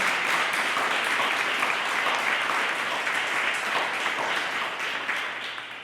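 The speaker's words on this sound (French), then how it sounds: "Et go, les applaudissements!" A theatre audience applauds, with a dense, sustained crowd clapping that holds steady and tapers slightly toward the end.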